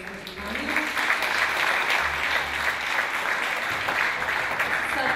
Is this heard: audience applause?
yes